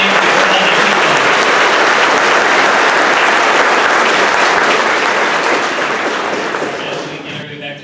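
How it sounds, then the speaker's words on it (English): An audience at an 8th grade graduation ceremony applauds loudly and steadily, the dense clapping filling the room before tapering off toward the end. "Let's give one more round of applause to our 8th grade team leader."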